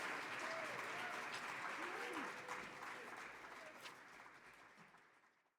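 An audience claps for a band at an outdoor jazz concert, sustained applause with scattered whoops and voices mixed in, gradually fading out.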